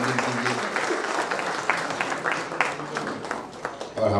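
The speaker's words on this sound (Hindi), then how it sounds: "आप सब तालियों से आप अभिनंदन कीजिए" An audience at an Independence anniversary event applauds after a song, a crowd's clapping rising and continuing over several seconds, with a voice speaking at moments over it.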